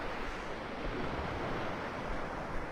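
Waves of an incoming tide wash onto a Florida Gulf beach at Delnor-Wiggins in North Naples, a steady close roar of surf mixed with wind noise, with no voices.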